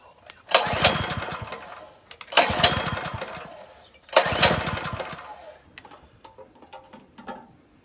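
A small petrol engine on a farm fires up three times in a row, each burst sputtering loudly and then fading away, followed by quieter scattered clicks.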